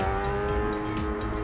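Motorcycle fitted with a 230mm Black Widow GP style exhaust, a steady engine drone with a low rumbling throb held throughout, fairly even and without talk.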